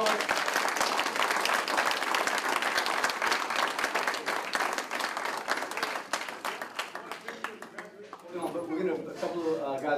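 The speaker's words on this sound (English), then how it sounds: "Can we just give another round of applause?" Dense, sustained crowd applause at the 2018 Operation Exit graduation, loud and full for most of the stretch, thinning near the end as a voice begins speaking.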